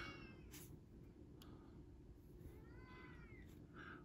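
A male house cat meows a few times, faint and somewhat distant, over a steady low room hum with no talking.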